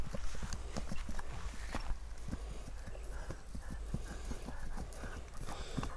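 Hooves of a young, spirited sport horse clip-clop steadily as it is ridden, the beats close and even over a faint outdoor background.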